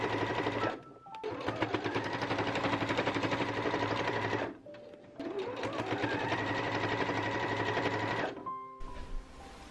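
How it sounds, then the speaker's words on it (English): A sewing machine stitches bag layers together at a 5/8-inch seam allowance, humming loudly and steadily in two long runs with a short pause between them and a brief stop near the end. "We're going to sew all of those layers together using 5/8 inch seam allowance."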